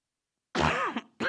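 A single close, raspy throat clearing, followed by the start of a second one at the very end.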